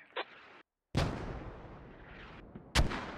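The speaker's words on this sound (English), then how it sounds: "Let's see where these mortars land." In the military shooter game Squad, mortar rounds land as a few sharp, heavy blasts, one faint early thump, then a loud close impact with a rumbling tail and another sharp burst near the end.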